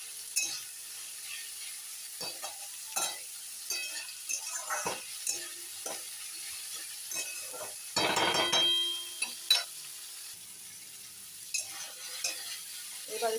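Food frying in a pan at home before eggs are added, heard as scattered quiet clicks and scrapes of stirring, with a brief louder sizzle burst midway against a faint background.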